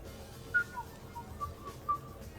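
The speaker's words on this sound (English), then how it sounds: "Are you whistling?" Someone whistling in Mass Effect Legendary Edition: a few short, thin whistled notes rising and falling over faint background ambience, fairly quiet and up close.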